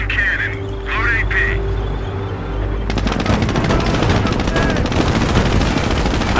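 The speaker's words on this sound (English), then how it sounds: "Crocodile ready. Fire main cannon." In a Company of Heroes battle, a Crocodile tank fires amid loud, rapid bursts of gunfire and crackling explosions that follow a stretch of engine rumble and a voice calling out orders.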